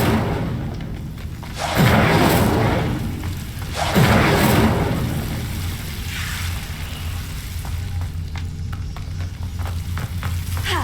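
The Incendio fire spell being cast in Hogwarts Legacy, heard as whooshing, crackling bursts of flame that flare up twice in quick succession and then fade into a fainter sizzle, with no talking.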